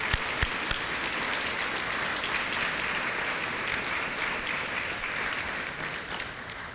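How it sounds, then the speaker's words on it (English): An audience applauds award winners at a local hero awards ceremony, steady loud clapping from a large crowd that continues for several seconds with no talking. "a round of applause for our winners"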